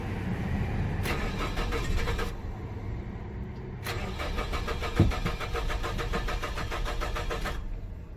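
A 2007 Nissan Frontier pickup engine cranks without starting, its starter whirring in two long bursts separated by a short pause, loud and close, with a steady rhythmic chug and no catch into idle.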